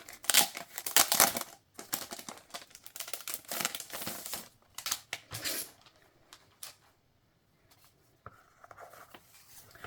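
Plastic packaging around a new A5 lined notebook crinkles and rustles as it is unwrapped: dense, close crackling bursts at first, then sparser handling noises with quiet pauses.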